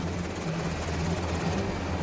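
A military helicopter flies over Baghdad with a steady, loud rotor thump and engine roar heard from close by, continuous for the whole stretch with no talk.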